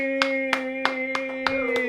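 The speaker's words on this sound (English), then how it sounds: "there's more people clapping this time" A small podcast studio audience claps sparsely for a Saskatoon local news and entertainment show, about six separate sharp hand claps spaced unevenly over a steady electrical hum.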